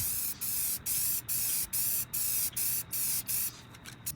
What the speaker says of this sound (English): and then I sprayed the spray paint.